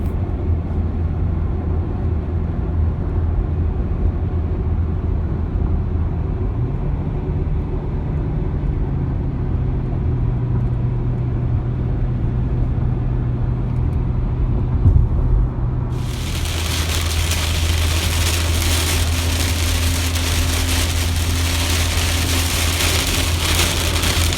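Steady rain drums on a car and a low road rumble runs underneath as it drives through a storm near Birchwood, Wisconsin. The hiss brightens sharply partway through, with no talk.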